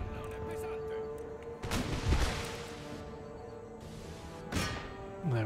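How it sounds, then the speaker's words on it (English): Rocket and artillery fire booms across a battlefield in Empire Total War, with a few heavy thumping blasts and crackling volleys at intervals over a low steady game ambience. "So more rockets inbound or outbound"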